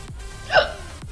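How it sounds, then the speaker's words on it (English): A person with a bout of hiccups gives a single sharp hiccup in the middle of a short quiet moment, close and fairly loud, with no talking around it. "I have hiccups like crazy right now."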